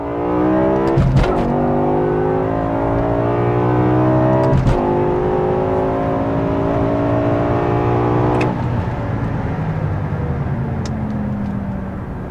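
A BMW E60 M5 with its V10 engine accelerates hard from first gear, the loud, close engine note climbing in pitch repeatedly with quick drops at each short-shifted gear change, running continuously without talk.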